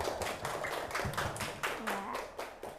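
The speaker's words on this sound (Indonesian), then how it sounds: "silakan tepuk tangan buat temannya" Classroom of schoolchildren clapping for a classmate, a burst of quick rhythmic handclaps from a small group, close and steady with a brief voice underneath.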